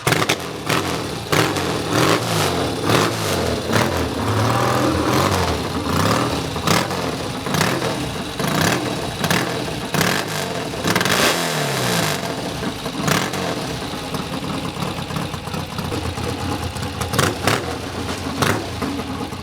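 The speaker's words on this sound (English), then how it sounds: "this Desert Racer from 1963 is a lot louder" A loud 1963 Triumph Desert Racer motorcycle engine roars nearby, revved hard in sharp bursts with crackling exhaust pops and a rough, aggressive idle between.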